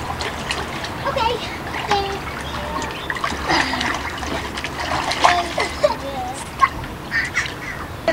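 Children swimming in a pool, with choppy water splashes and trickles scattered throughout, close by, under frequent kids' voices and chatter.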